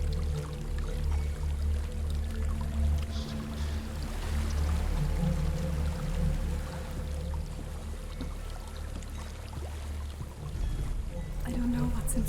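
A waterfall in the video game Hellblade: Senua's Sacrifice gives a steady, rushing wash of water, with low droning tones and faint murmuring voices beneath it.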